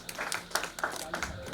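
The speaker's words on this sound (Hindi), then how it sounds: "एक बार जोरदार ताली हो जाए भाई" Applause at a literary session of the Magadh Mahotsav in Patna Museum: scattered hand claps in a short, fairly soft burst, with talk mixed in.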